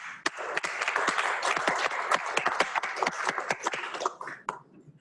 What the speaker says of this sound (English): Go ahead and give them some applause, guys.